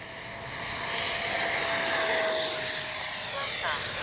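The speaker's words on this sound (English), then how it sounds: "Enjoying that KM model afterburner" Loud, steady roar of an RC Freewing Vulcan 70mm electric ducted-fan jet with a KM afterburner, a continuous whooshing whine with a high tone holding throughout and no talk.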